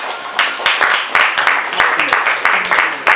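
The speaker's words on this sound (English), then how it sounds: "please, round of applause for our Lord Jesus Christ" A comedy night audience breaks into broad, sustained applause, many hands clapping densely together at a steady level with the odd cheer rising through the crowd.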